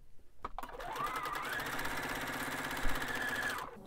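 A sewing machine stitches pieced quilt fabric in one steady run of several seconds, its fast even whirr rising in pitch as it speeds up, then cutting off, close and fairly quiet.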